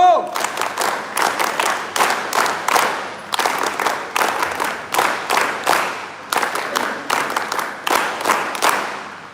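A crowd of NSS volunteers performs a rhythmic group clap, loud synchronized bursts repeating in a steady pattern with short pauses between sets, some voices mixed in.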